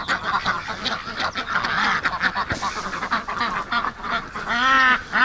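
Ducks call at a crowded duck hospital holding over a thousand birds, with overlapping quacks and honks throughout and a loud, close, drawn-out run of calls at the end.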